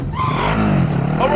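A car drives in the Call of Duty: Warzone video game, its engine revving with a rising and falling whine and tire noise, loud and near, with a voice speaking over it.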